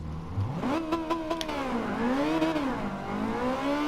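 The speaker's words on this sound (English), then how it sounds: "Still get wheel spin" A car in Gran Turismo 7 launching from a standing start with wheel spin, its engine revving up sharply, dipping, then climbing again in a steady whine, loud and close with no talking.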